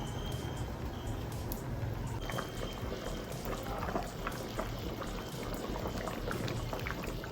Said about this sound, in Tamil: குழம்பு நல்லா கொதிச்சிருச்சு காயெல்லாம் வெந்துருச்சு